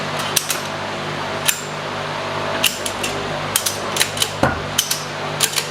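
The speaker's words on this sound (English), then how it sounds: "we're gonna try a couple ratchet straps, see if we can't lift it that way" Ratchet straps being tightened to lift a 2004 Chevy Avalanche during a rear end swap, a series of sharp mechanical clicks and clacks at an irregular pace over a steady background hum.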